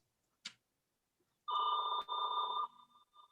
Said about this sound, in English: Whose phone?